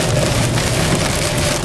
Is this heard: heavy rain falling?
yes